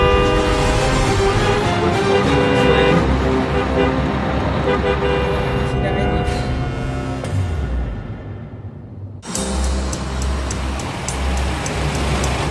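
Dense Vietnamese street traffic with loud, repeated horn blasts layered over a constant engine roar, briefly dropping away before an abrupt burst of honking and motor noise returns.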